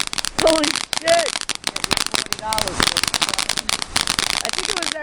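Fourth of July fireworks burst and crackle in rapid, dense bursts nearby, loud and continuous, with excited voices talking and shouting over them.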